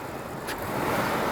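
A Mercedes S-Class with a 3.6 litre V8 idling, a steady low rumble at moderate distance with a brief faint high whine partway through.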